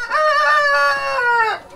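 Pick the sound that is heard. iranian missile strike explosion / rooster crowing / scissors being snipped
rooster crowing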